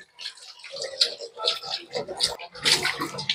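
Water runs and splashes while a smelly kitchen dustbin is scrubbed out, in close, uneven bursts with intermittent clatter.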